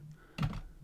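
Faint keystrokes on a computer keyboard while a password is typed, with a soft cluster of clicks and a dull thunk in an otherwise quiet room.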